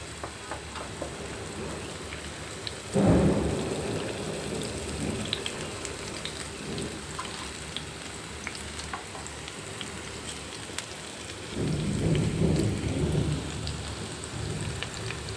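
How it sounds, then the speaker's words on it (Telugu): Heavy rain pours steadily, with deep rumbles of thunder rolling in twice, once early and again near the end. "వర్షం పడుతుందండి మేఘాలు డమ్ డమ్ అవుతున్నాయి వర్షం చాలా జోరుగా పడుతుంది"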